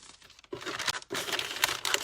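Wrapping paper being folded along an edge while packaging a parcel, a close crinkling and crackling rustle in two bursts after a brief quiet start.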